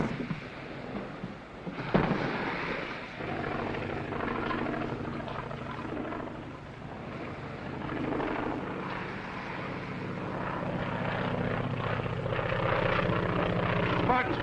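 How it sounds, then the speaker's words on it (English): A plane engine in a 1940 adventure film drones steadily and grows gradually louder as it approaches, a continuous rough rumble filling the scene with no talk over it. "Barton's plane."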